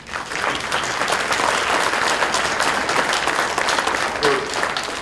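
At a Salina city commission study session, a room of attendees breaks into dense, sustained clapping, moderately loud and continuous throughout.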